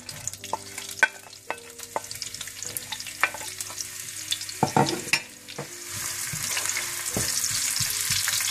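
Onions go into hot desi ghee for chicken biryani, opening with scattered clinks and stirring taps before a steady, close frying sizzle swells over the last few seconds, with no voices.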